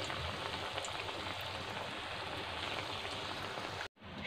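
Chhana kofta deep-frying in white oil hisses with a steady, dense sizzle that holds for several seconds before cutting out abruptly near the end.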